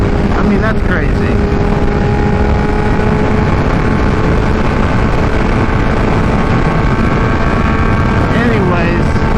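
Kawasaki Ninja H2 motorcycle with a Vandemon exhaust under way on the highway, a constant loud engine drone mixed with heavy wind rush throughout.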